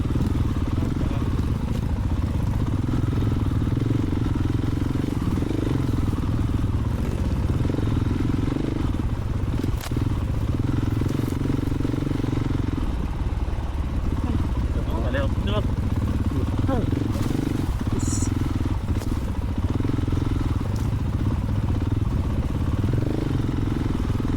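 A motorcycle engine runs steadily on a rough, extreme off-road trail, a constant mid-pitched rumble with occasional clatter throughout, while people talk over it.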